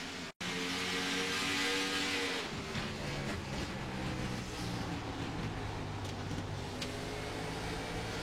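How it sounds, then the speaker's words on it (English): Race car engine screaming at high revs, then faltering and changing note as the car loses grip and spins, followed by a rougher, uneven roar; heard from a distance at a racetrack. "the car just spun around and tried to save it"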